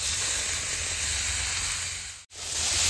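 Cauliflower and potato pieces fry in hot oil with a loud, steady close-up hiss and sizzle. It drops out for a moment and then returns.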